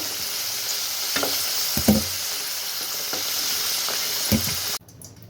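Potato pieces deep-frying in hot oil until reddened, a continuous close sizzle with a few sharp clinks and stirring knocks, cutting off abruptly near the end.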